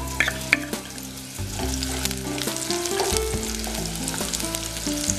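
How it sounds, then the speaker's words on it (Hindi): Potatoes and green chillies fry in a pan for buckwheat-flour kadhi, a steady close sizzle with scattered crackles running throughout, with music playing underneath. "आलू हमारे अच्छी तरीके से फ्राई हो चुके हैं। इसमें ऐड कर देते हैं हरी मिर्च।"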